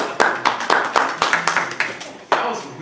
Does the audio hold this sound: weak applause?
yes